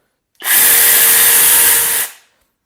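A 40 cm cordless chainsaw with a metal body and gearbox, powered by 8 Ah batteries of 21700 cells, runs in one loud, close, even burst of about a second and a half, then winds down.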